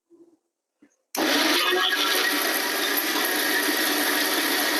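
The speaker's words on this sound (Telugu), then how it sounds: "ఇప్పుడు దీన్ని మెత్తగా మళ్ళీ ఫైన్గా గ్రైండ్ చేస్తాను, మిక్సీ చేస్తాను" After a few faint knocks and a near-silent pause, a mixer grinder starts abruptly and whirs loudly and steadily, finely grinding dosa batter up close until the end.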